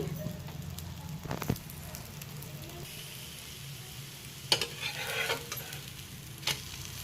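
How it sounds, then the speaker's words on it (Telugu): Onion pesarattu, a crispy mung bean crepe, cooking on a hot pan in ghee or oil, giving a steady low sizzle and crackle with a few brief louder scrapes or stirring sounds. "నెయ్యితోటి కానీ నూనె కానీ వేసుకొని చక్కగా ఎర్రగా కాలేంత వరకు చేసుకోండి."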